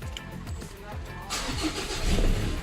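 A Ford Ranger XLT with manual gearbox starting via a fitted keyless push-start button: a brief cranking clatter, then the engine catches and settles into a rising steady rumble, with faint voice nearby.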